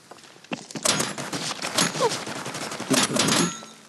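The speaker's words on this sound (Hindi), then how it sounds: "अब एनिमी मेरे पे शॉट लेने लग गया था" Enemy gunfire in a mobile battle royale shooter game, a stretch of loud, sharp shots and bursts cracking close by in quick succession, with no talk over them.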